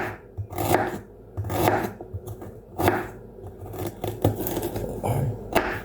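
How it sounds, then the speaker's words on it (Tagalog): A knife chopping fresh ginger for paksiw, a series of irregular, fairly close chopping and scraping strokes with pauses between bursts. "maghiwa muna tayo ng luya"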